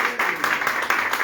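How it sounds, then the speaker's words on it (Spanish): Audience applause for a speaker named Solia at a talk: a short burst of steady, dense clapping from a room of people, fairly close and even throughout. "otro aplauso más para Solia."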